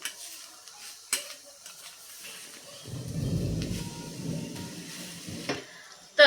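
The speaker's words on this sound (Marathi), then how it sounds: "यामध्ये एक वाटी आपल्याला खिसलेला किंवा बारीक चिरून घेतलेला गूळ घालायचा आहे लगेचच मिक्स करायचं आहे" Grated jaggery being stirred into a hot pan, with sparse spoon taps and scrapes and a soft frying rustle swelling in the middle before a sharp knock at the end.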